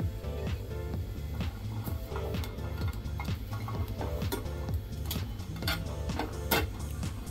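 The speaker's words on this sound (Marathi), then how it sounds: "त्यासाठी मी इथे फ्राईंग पॅन ठेवलेला आहे आणि आता ह्याच्यामध्ये मी 10 ते 15 मिरच्या घेतलेल्या आहेत, त्या भाजून घेते।" Green and red chillies roast in a frying pan, a dense run of small sharp ticks and clinks like dry pods shifting and popping against the metal, steady and close for several seconds.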